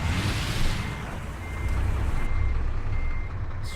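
A Scania 143M truck backing up in Euro Truck Simulator 2, its reversing alarm beeping steadily over a loud, continuous diesel engine drone, with no voices over it.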